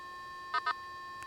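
A steady, thin electronic hum with faint tonal lines from a Nokta Triple Score metal detector, its threshold set to maximum, broken by two short beeps and a third faint one, heard alone.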